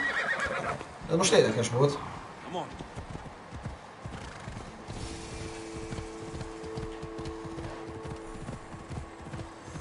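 A horse in the Assassin's Creed Odyssey video game gives a loud neigh early on, followed by steady rhythmic hoofbeats of walking, with someone talking over the game sounds.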